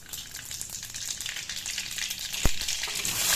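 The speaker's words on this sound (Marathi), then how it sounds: "जिरं मोहरी चांगली फुलू द्यायची।" Cumin and mustard seeds splutter in two spoons of hot oil in a kadhai, a dense, continuous crackling sizzle with one sharp pop partway through.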